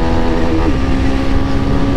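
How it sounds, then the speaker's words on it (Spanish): A steady, loud engine drone with a rising whine partway through, like a motorcycle revving up and pulling hard under acceleration. "se siente potente la motocicleta"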